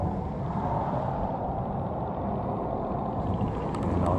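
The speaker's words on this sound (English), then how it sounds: "Now it's the sound of the cars" Steady low road rumble of cars passing at a distance along a road near a lake in Cappadocia, Turkey, a continuous broad wash of traffic noise with no voices.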